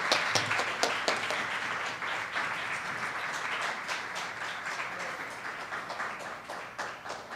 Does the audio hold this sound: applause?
yes